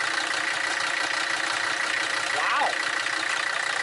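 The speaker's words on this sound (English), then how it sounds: "I think that's a pretty healthy old engine." A Mercedes 300SD diesel engine idles steadily after a radiator repair, a continuous even rumble heard close up, with one brief voice exclaiming over it.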